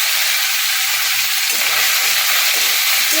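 Kakchi fish frying lightly in oil gives a loud, steady, close sizzle that continues without a break, with faint scraping underneath and no voices.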